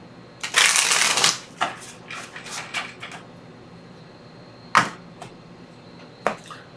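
Tarot cards are shuffled close by in a brisk riffling burst, then a few softer slaps and flicks as the deck is handled, ending in isolated card snaps.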